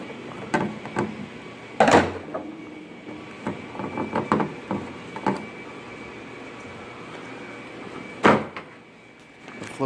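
A Cadillac XT5 or XT4 car door is flipped over and handled during door handle removal, giving two loud hollow clunks among lighter knocks and rattles, with no one talking.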